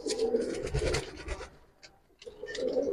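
A male Military pigeon at a pigeon market gives soft, close coos with rough, raspy texture, a rolling burst followed by a short pause and another low call.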